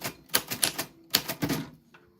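A typewriter clatters through several quick bursts of key strikes in two clusters, close and crisp, with a short pause between them and a faint ring near the end.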